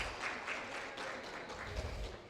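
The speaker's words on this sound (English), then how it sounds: "A round of applause." Round of applause from a seminar audience on septic systems and water pumps in Grenada, a soft, even patter of clapping from a small crowd that carries on for a couple of seconds.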